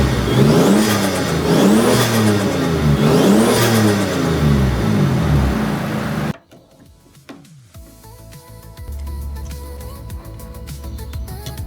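A 1994 Toyota Supra Turbo with no blow-off valve fitted revs hard in three rising-and-falling sweeps over about six seconds. Then it cuts to near silence, and a faint engine idle follows.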